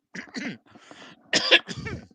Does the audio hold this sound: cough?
yes